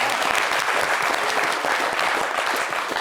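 A studio audience on a French TV talk show applauds an arriving guest, a loud, full burst of many hands clapping with a few individual sharp claps standing out, sustained evenly throughout.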